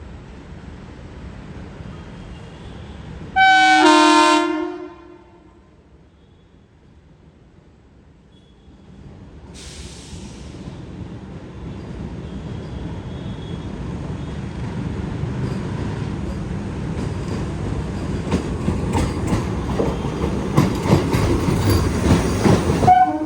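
A Vande Bharat Express train arrives slowly and switches lines. A loud horn blast sounds briefly near the start, then comes a shorter hiss, then a steadily building rumble with rhythmic wheel clatter over the points.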